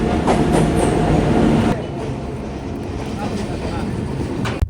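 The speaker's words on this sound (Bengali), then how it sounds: "তো আমরা এখানে ট্রেনে উঠে গেছি।" A train carries passengers with a steady rumbling rattle of the carriage, loud and close, easing slightly partway through, with voices talking over it.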